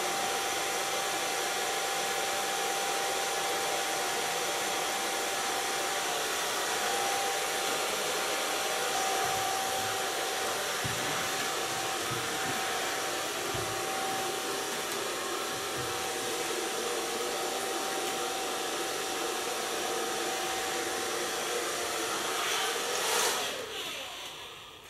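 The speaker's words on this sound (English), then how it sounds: "I'm gonna blow dry it with the diffuser." A hair dryer fitted with a diffuser blows steadily and loudly at close range while drying permed, curly hair, holding one even roar with a faint whine for the whole span before a brief shift near the end.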